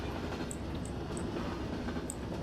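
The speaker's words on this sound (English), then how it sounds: "you see this train" In the video game mod Half-Life: Precursor, a train rolls along with a steady dense rumble. Faint metallic clicks repeat at roughly even intervals over the rumble, and no one speaks.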